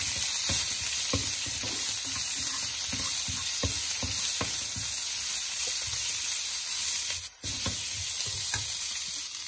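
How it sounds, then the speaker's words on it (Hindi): Green chillies roast in oil in a pan for samosa filling, with a loud steady sizzle and regular stirring scrapes and taps of a spatula throughout, close up and with no talking. "ये मैंने ऐड करी है इसमें हरी मिर्ची इसको अच्छे से भून देंगे"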